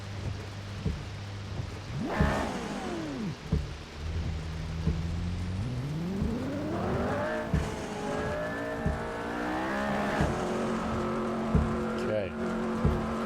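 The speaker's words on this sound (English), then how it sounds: "This is a McLaren Senna GTR in the wet at Sebring." McLaren Senna GTR race car in iRacing on a wet Sebring track, engine revving up through rising gear pulls and dropping on shifts, with steady rain hiss and a distant thunder-like rumble underneath.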